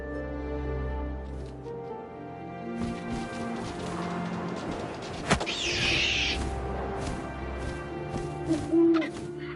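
An owl hoots in What Remains of Edith Finch, woven into a layered game soundscape with a low drone, scattered clicks and a sharp knock midway.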